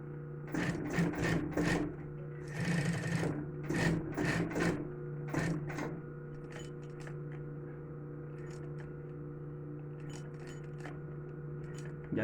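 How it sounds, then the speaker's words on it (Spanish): A sewing machine stitches the side seam of a small fabric phone bag in several short bursts of whirring needle runs, separated by pauses, over a steady background hum. "Ya lo que pasaremos es hacer la otra costura sobre el otro costado."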